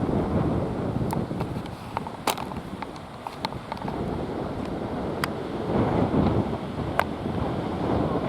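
Steady wind buffets the microphone on a golf course, a continuous rushing roar with a few faint clicks and knocks scattered through it.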